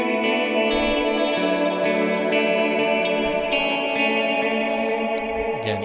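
A custom Jazzmaster-style electric guitar on the middle neck-and-bridge pickup position plays the opening riff of a song in E standard, shimmering chorus-and-echo-soaked notes ringing into one another in a steady wash, with no speech.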